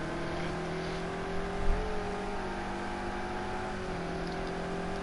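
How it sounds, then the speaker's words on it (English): Ferrari and BMW GTE race cars run along a straight at Imola in a racing game, a steady droning engine whine holding a sustained pitch, one car's tone shifting slightly near the end, moderately loud. "the BMW just cannot keep up with the Ferrari on that straight"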